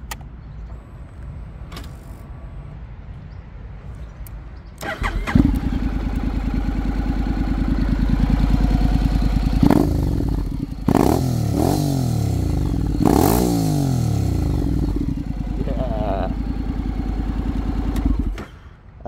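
A Honda X-ADV750 motorcycle with keyless ignition clicks and whirs quietly, then its engine fires at about five seconds and settles into a loud, close, steady idle. Several brief rev blips and clatters follow before it cuts off near the end.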